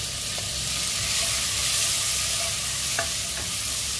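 Ginger and tomato sauté in a pan for a hammour fish curry, giving a loud, dense and continuous sizzle with faint stirring clicks and no voices.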